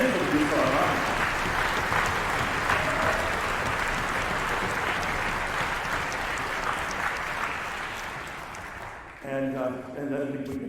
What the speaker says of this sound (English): a round of applause for my colleague, Mr. Doug Beta, and for the Youth Philharmonic